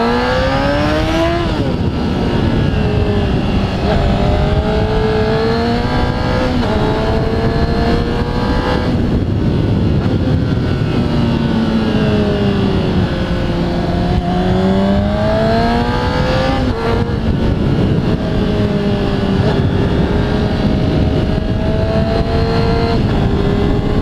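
A Honda CBR600RR sport bike is ridden hard at speed, its engine loud and close, the pitch climbing and dropping in long sweeps through gear changes over steady wind roar.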